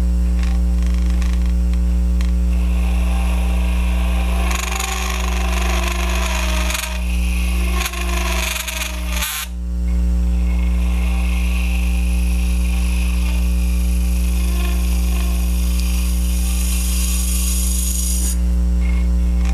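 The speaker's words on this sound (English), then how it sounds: "Now if I get chatter like that, I need to take a lighter cut." A lathe cutting tool chatters while turning a vessel, a steady loud machine hum with a ringing tonal drone and a few brief irregular bursts of rattling chatter in the middle.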